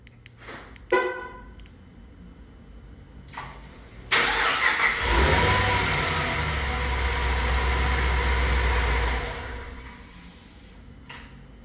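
Supercharged LSA engine in a Pontiac G8 fired by remote start after a few chirps and clicks: a cranking burst catches into a loud, close, steady idle that runs several seconds, then cuts off.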